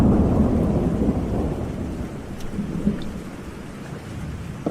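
Steady rain and a rolling thunderstorm fill the track as a producer's signature tag in a song, a dense wash of downpour with low rumbling thunder throughout, no voices.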